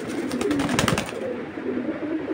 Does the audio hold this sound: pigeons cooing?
yes